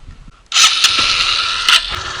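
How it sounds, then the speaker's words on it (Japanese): Engine of a 2008 Honda Titan motorcycle cranking and catching, a sudden loud start after near-silence, then a steady close running rattle with a brief surge partway through. "エンジン始動。"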